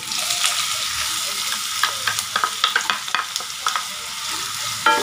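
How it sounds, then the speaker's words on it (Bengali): Chopped onions fry in oil after spices are tempered, a lotte fish jhuro in progress, with a loud continuous sizzle and a run of close stirring scrapes through the middle, no voices. "পেঁয়াজ কুচিগুলো দিয়ে আবার একটু এগুলোকে ভাজবো ভালো করে"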